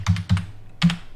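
Keys on a computer keyboard clack close by in three quick paired strokes, sharp and crisp, with short pauses between and no talking.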